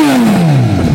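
A 2015 Suzuki GSX-S 1000 fitted with a Yoshimura R11 exhaust gives one short, loud blip of revs, its pitch sliding down as the engine falls back, close by.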